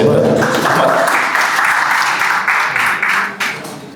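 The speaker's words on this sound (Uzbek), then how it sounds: "Olqishlab qo'yamiz." An audience at a startup hackathon gives a loud round of applause for a team that has just presented. The clapping is sustained and close, with voices mixed in, and it thins out toward the end.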